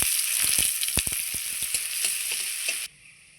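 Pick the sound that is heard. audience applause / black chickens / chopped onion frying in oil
chopped onion frying in oil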